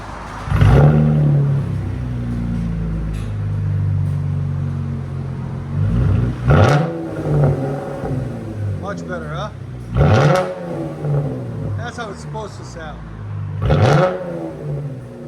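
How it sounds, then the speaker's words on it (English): Chevy Camaro V6 with aftermarket Dynomax exhaust and X-pipe, idling with a deep rumble then revved in several sharp, loud bursts that rise and fall at regular intervals. "Chevy Camaro V6."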